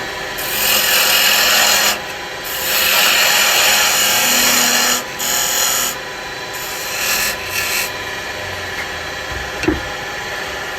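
A carbide chisel cuts a tenon on wood spinning on a lathe, giving a loud, steady rasping scrape in several long passes separated by short pauses, with the lathe humming underneath.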